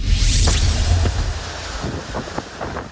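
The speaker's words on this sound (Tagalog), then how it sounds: "Maladilubyong hangin ang bumulabok sa mga taga-Florida, Amerika ngayong araw." Strong gusting wind from Hurricane Milton in Florida roars and buffets the microphone, heavy at first then easing, with scattered knocks and rattles underneath.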